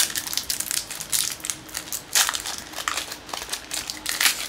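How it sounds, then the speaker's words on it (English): Foil Flesh and Blood trading card packs are torn open up close, giving crisp, sharp crinkling and crackling bursts in uneven clusters at a fairly quiet level, with no talking. "Nice, crisp, sharp sound opening packs."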